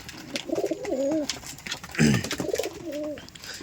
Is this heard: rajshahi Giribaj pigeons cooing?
yes